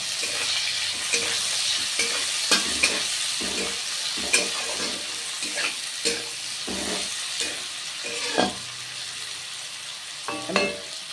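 Onions fry in hot oil in a pan for a potato and kundri dish, a soft steady sizzle broken by a regular rhythm of sharp spatula scrapes and taps, close and clear with no talking.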